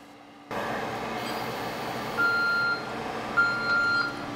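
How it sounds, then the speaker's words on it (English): An MRP C CO2 skin resurfacing laser sounds its O2 failure alarm: two short bursts of a thin electronic tone over the machine's low, steady hum in a quiet room. "This is the alarm that will go off."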